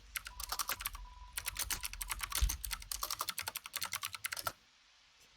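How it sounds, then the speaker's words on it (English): Rapid, forceful keystrokes hammer a computer keyboard in a dense burst of sharp clacks for several seconds, then stop abruptly, close and clear with no talk. "Aggressive typing."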